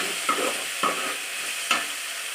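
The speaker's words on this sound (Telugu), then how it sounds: "ఇంకా మనకి టమాటా ముక్కలు సరిగ్గా వేగలేదు కాబట్టి ఇంకా ఒక 2 నిమిషాలు ఫ్రై చేసుకుందాం." Tomato pieces fry in a pan with a steady, loud sizzle while a spoon stirs them, scraping the pan three times at uneven intervals, close by and with no voices.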